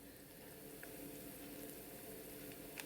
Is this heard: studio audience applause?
no